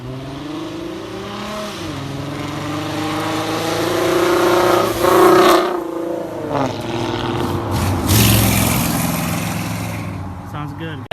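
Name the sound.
2016 V6 Mustang with Corsa exhaust and shorty headers revving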